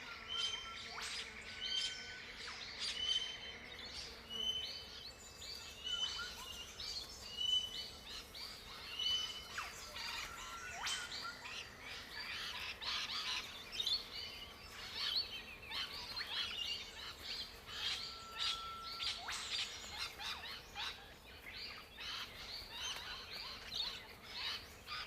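Forest birds, including topknot pigeons, call and chirp steadily in a summer forest, many small calls overlapping at moderate distance over a constant low ambient hiss, with no voices.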